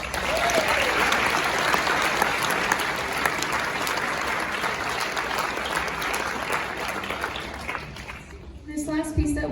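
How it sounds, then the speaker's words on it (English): Audience applause for choir students at a district choir concert at a school, a dense sustained wash of clapping that holds steady for about eight seconds before thinning and fading near the end. "So let's give them a round of applause."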